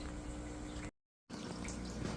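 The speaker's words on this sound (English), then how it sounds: "It's just a drip acclimation, just running into the bucket." Water trickles and runs steadily from a shrimp tank down a tube into a bucket during a water change, a continuous close hiss with a brief break partway through.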